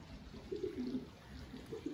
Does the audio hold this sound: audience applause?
no